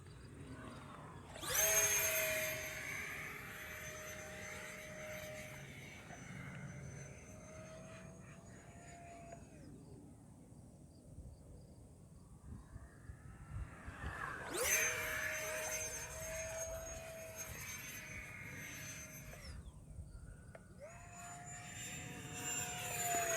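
E-flite Habu STS 70mm electric ducted-fan RC jet on a 4S battery, whining passes that swell and fade in bursts, rising and falling pitch as it flies by, with gaps of quieter outdoor background between them.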